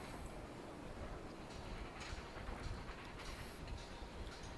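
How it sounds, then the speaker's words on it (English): A train rolls steadily as a looping sound effect in a Deadlands tabletop game session, a faint, continuous rumble with a soft clickety-clack texture and no talk. "Yeah, I got some train sounds going."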